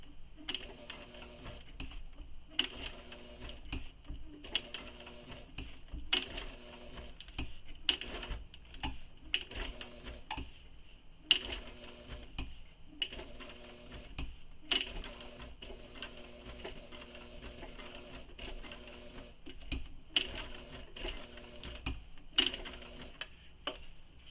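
A sewing machine stitches around a bag connector in short, separate bursts of mechanical ticking, with sharp clicks between runs as the presser foot lifts and the work pivots, close and fairly quiet.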